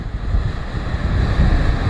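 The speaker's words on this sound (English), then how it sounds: "Sorry about the wind." Strong, steady wind rushes over a deep desert canyon above the Snake River, a loud continuous low roar and buffeting right at the microphone with no voices.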